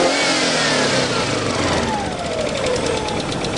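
A Subaru Legacy engine on its first start after sitting for two years runs rough, as if not firing on all cylinders. It is a loud, steady, close running note with an uneven edge, heard alone for the whole stretch.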